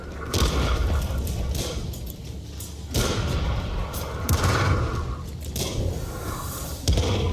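Artillery fire in World of Tanks, from a US Sexton self-propelled gun at Hidden Village: several deep booms and thuds spaced a few seconds apart over a continuous low game rumble.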